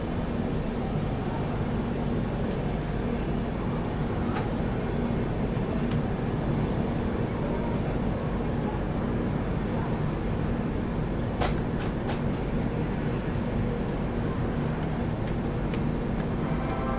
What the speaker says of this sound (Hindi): 9:13 पे जाकर के दोस्तों अपनी विभूति एक्सप्रेस अराइव कर रही है बर्धमान जंक्शन पे।